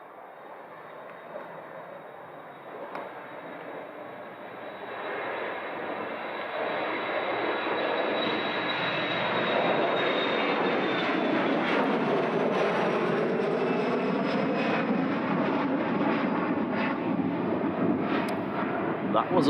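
An older 300-series Jet2 airliner passes at Leeds Bradford Airport, its engine roar swelling steadily from a moderate rumble to a loud sustained drone with a whining tone, while people talk faintly underneath.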